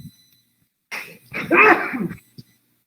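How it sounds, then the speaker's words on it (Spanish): A single sharp sneeze from a woman during a Spanish-language anatomy lesson on joints, with a short breathy intake before it and a brief small noise after, otherwise quiet. "ahí se me fue un estornudo sin querer queriendo"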